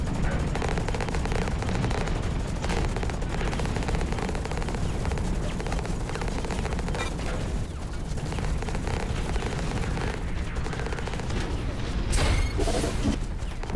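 In the mech combat game Hawken, a turret's steady gunfire rattles amid a dense, noisy battle wash, continuous and moderately distant, with a couple of sharper blasts near the end.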